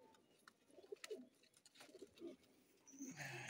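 Soft, low cooing from a white wild-type pigeon, a few muffled coos close by with faint chirps and background noise, no talking.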